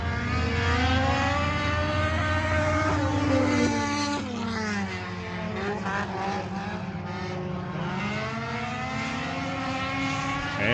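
A field of race cars roars into turn 1 at the start of the 2026 season opener at Hattiesburg Speedway, a loud sustained layered engine drone with pitches sweeping up and down as the cars accelerate together.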